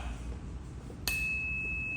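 A bicycle bell mounted on a bike with hydraulic brakes gives one clear, bright ding that rings on steadily after a muffled handling noise, close and alone.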